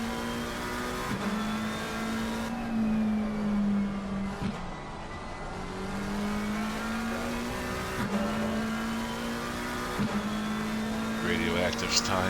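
Onboard engine of a McLaren race car in sim racing at the Nürburgring, a steady droning whine rising through gears with brief dips at shifts, under continuous commentary talk.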